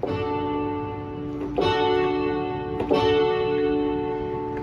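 A Yamaha MX61 keyboard plays sustained chords through chorus and reverb effects, giving a shimmering, washy tone with three soft attacks that blend into long echoing tails, no talking.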